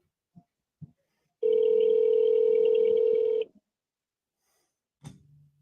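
A single long telephone ring tone sounds for about two seconds while a call waits for voicemail to pick up, loud and steady between near silence, followed by a few faint clicks and a soft thud.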